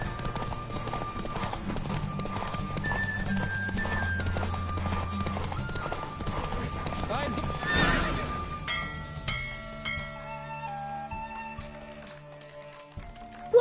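Galloping hooves from a horse race in The Witcher video game beat steadily under music, then a loud whinny rings out before the hoofbeats fade into a quieter musical ending.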